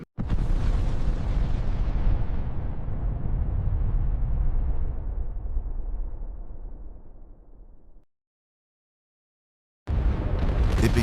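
A massive asteroid impact explosion booms in a huge, roaring blast that slowly fades over several seconds into silence, then a second loud rumbling burst erupts abruptly.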